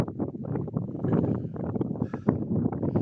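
Cold wind gusting across a high mountain trail on Pico de Teide, a steady buffeting rush with fluctuating gusts close to the microphone and no talk.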